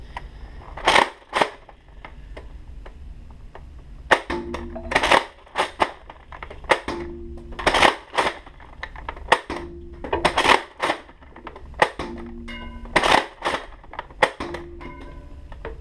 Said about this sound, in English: here's a firing test of the Revonix360 in my room